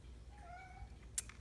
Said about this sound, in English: sorry, my cat's being mischievous.